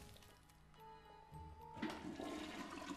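A toilet flushing in the video game Luigi's Mansion 3, a faint, rising gush of rushing and gurgling water that swells toward the end and plays without talk.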